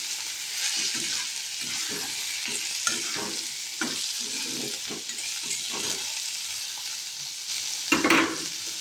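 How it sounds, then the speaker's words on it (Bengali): Potato and eggplant pieces fry in hot oil, giving a constant bright sizzle with soft stirring scrapes spread throughout and a louder clatter near the end, close and without speech. "এরপর আলু আর বেগুনের টুকরোগুলো ভালো করে ভেজে নেব।"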